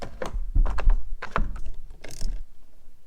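A ratchet wrench disconnecting the battery of a 2007 Chevrolet Silverado, heard close up as quick bursts of clicking ratchet strokes and metallic clunks. No one speaks.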